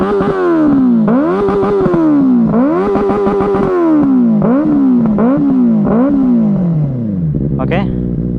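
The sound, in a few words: Benelli 600i motorcycle engine revving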